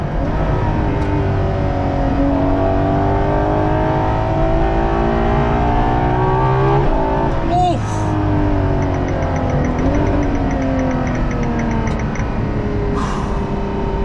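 A Ferrari LaFerrari's 950-horsepower V12 revs hard at full throttle, loud and close, with rising engine tones that climb and shift through gears over about fourteen seconds of continuous roar.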